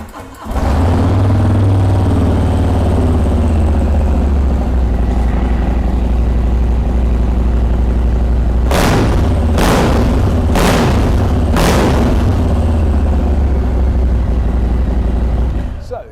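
A Harley-Davidson Fat Boy 114 Softail cruiser idles with a deep, loud rumble, then revs sharply four times in quick succession before settling back to idle.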